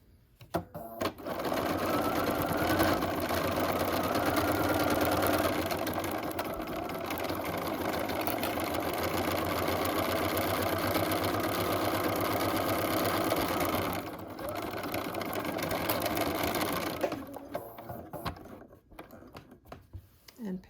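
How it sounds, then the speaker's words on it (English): A sewing machine runs steadily down the entire side of a handmade Almondine bag, a close, continuous mechanical whir that slows briefly around pivots before resuming. "And then I'll be stitching down this entire side."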